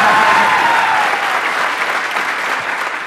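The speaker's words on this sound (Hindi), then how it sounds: "कैमरा फोकस किया जाए उन लोगों पे जो पूरे दिल से तालियां बजा रहे हैं।" Sustained crowd applause at a comedy contest taping, many people clapping enthusiastically for a performer's poetry line, a thick continuous wash of claps holding steady and loud before easing slightly toward the end.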